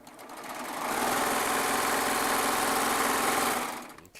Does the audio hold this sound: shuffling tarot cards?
no